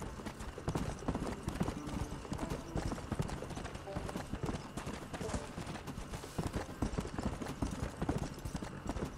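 Horse hooves clip-clop steadily in the Red Dead Redemption video game as the horse travels, a continuous rhythmic trot under a voice talking over the gameplay.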